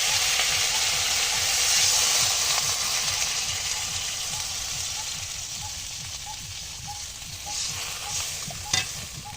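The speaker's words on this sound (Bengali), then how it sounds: "এখন আমি জল দিয়ে দিচ্ছি।" Water hits a pan of fish frying in spices and sets off a strong, steady sizzle and hiss that slowly eases, with faint clinks and stirring in the background.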